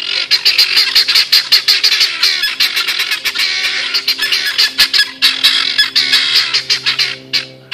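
Gray duck and other birds squawking and honking in a town, a dense, continuous chorus of harsh overlapping calls, loud and close, with rapid bursts throughout.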